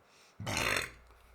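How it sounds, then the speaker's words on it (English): A single loud, close burp, rough and drawn out for under a second before trailing off, heard alone without talk. "If not, that is a pretty alright burp, though."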